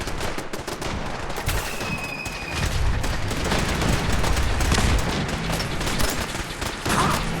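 Sustained gunfire in Fallout 4 as synths and attackers assault a castle, a loud continuous clatter of rifle and machine-gun shots with heavy thuds and an occasional electronic whine.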